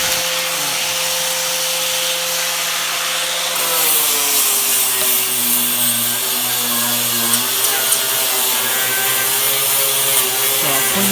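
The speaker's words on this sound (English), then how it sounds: "This is done. I gotta grind the outside." Power grinder working on the outside of a rusty Toyota frame, a steady loud whine that shifts in pitch as the tool loads and eases against the steel, running continuously without speech.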